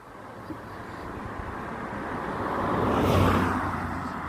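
A car approaches and passes on a narrow forest road in the Netherlands, a rumbling engine and tire noise swelling to a peak then easing off.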